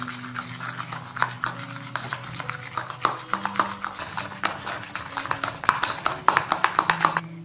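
A face pack paste is stirred and mashed together in a small bowl, giving repeated soft tapping and scraping strokes in an uneven rhythm, close and moderately loud, with a steady low hum underneath.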